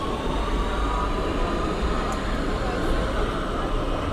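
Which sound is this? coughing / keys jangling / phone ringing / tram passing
tram passing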